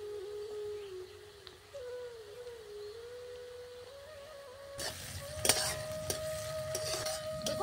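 Onion and tomato with slit green chillies frying in a pan, a quiet sizzle that grows louder partway through as a utensil scrapes and clinks against the pan while stirring.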